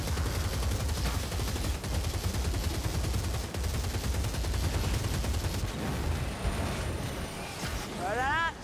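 Sustained rapid gun shooting in the video game Warhammer Vermintide, loud and dense, with a voice speaking over the fire before it tapers near the end.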